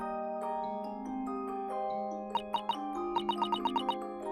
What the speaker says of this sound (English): It's a music box.